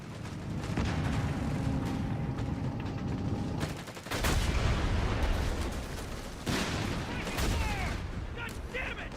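Battle sounds from Company of Heroes 3 play continuously: rattling gunfire, volleys and booming artillery shell blasts form a dense, loud wall of combat noise, with a voice talking over it.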